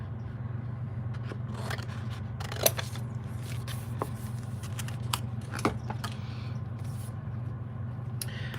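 Scissors snipping washi tape paper for a layout, with a few faint, scattered clicks and crisp snips over a steady low background hum, one or two cuts slightly louder than the rest.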